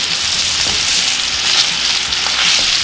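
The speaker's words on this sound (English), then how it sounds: "So we're going to toss in some butter" Butter sizzles steadily in a cast iron skillet alongside steaks, a dense continuous frying hiss with small crackles and pops throughout, close and loud, with no voices.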